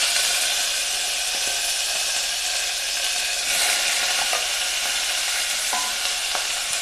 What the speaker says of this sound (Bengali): এবার দিয়ে দেব আমি লেবু দিয়ে মাখিয়ে রাখা চিকেন